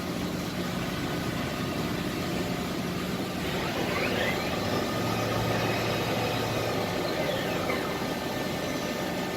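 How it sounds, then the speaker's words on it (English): A Haas ST-30 CNC lathe with a 30-inch swing and 10-inch chuck runs in low gear, a steady low mechanical hum with faint whining sweeps, alone and moderately quiet. "Here we'll be actually engaging the machine in low gear."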